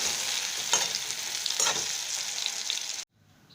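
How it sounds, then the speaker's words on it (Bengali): Pointed gourd frying in oil with salt and turmeric gives a steady, close, bright sizzle with faint stirring scrapes. It cuts off abruptly near the end, leaving a low hush. "পটলটা ভেজে নেব নুন হলুদ দিয়ে, পটলটাও ভেজে নিচ্ছি"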